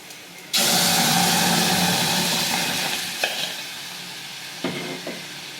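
Loud, steady sizzling as arai keerai greens hit hot oil, a continuous crackling hiss with a couple of sharper clatters toward the end.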